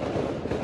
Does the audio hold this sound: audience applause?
no